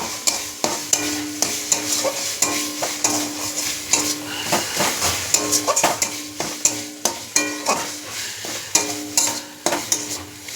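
Koi fish sizzles in spice masala fried until red with the oil separating, while a spatula scrapes and clanks against the pan in a quick, uneven rhythm over a steady hiss of frying, with no voices.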